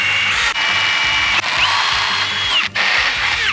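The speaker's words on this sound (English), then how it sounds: "this is a 25/64 drill bit that's required to install these nutserts in here" A power drill with a 25/64 bit bores nutsert holes into a fiberglass hood for a 1992-96 Ford Bronco or F-series truck. It whines loudly up close in three long bursts, each cut by a brief stop.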